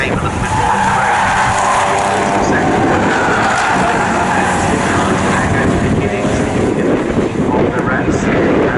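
Race cars roar past at Snetterton circuit, a loud, dense engine drone with tyre noise that holds steady and close throughout, with no pauses.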